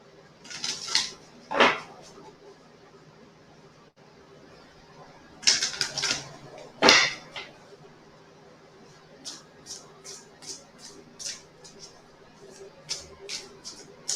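Tarot cards are shuffled in bursts of crisp riffling and flicking, with quieter card taps and soft clicks between them, close by in a quiet room.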